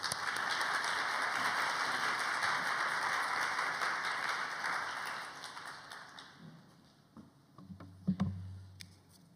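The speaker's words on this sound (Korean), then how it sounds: "앞으로 목사님 모실 때 큰 박수로 맞이하겠습니다." A young adults' Sunday worship congregation at Geumgwang Church claps loudly to welcome Pastor Jeong Gap-sin to the front, a dense crowd applause that holds steady for several seconds, then thins out into a few scattered claps and small knocks and shuffles.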